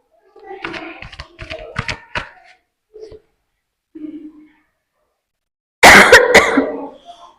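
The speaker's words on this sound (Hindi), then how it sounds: "खांसी पता नहीं कब जाएगी, बड़ा डिस्टर्ब करती है हमें रीडिंग करते टाइम" Several short throat sounds come early, then a loud burst of harsh coughing near the end, separated by quiet pauses and soft grunts.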